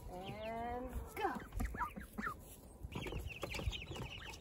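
Hens clucking and calling in a backyard poultry setting where ducks and chicks are being introduced, a steady stream of nearby bird vocalizations with some faint human voices underneath.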